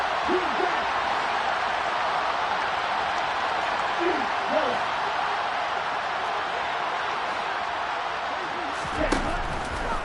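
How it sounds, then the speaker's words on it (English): Stadium crowd noise inside a domed football arena forms a dense, continuous roar throughout, while play-by-play commentary carries on over the top. "The crowd here in the Dome making things difficult."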